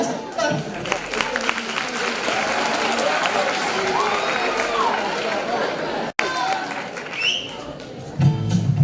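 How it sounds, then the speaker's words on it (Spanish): Audience applause in a school auditorium during a Tu cara me suena impersonation show, dense clapping with chatter and cheers that runs several seconds, briefly breaks, then resumes as music begins. "un fuerte aplauso"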